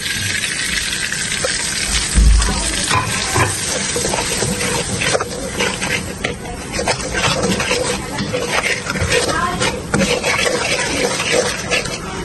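Steady, loud hissing and crackling of spices frying in a hot wok, with occasional scraping, continuous throughout without speech.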